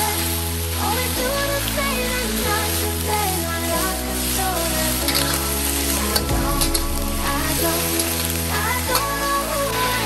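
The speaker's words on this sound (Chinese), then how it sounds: "锅中有底油，先将这个鸡呢煎香。" Chicken pan-frying in a little oil in a wok, a steady, loud crackling sizzle running throughout with no speech, over background music.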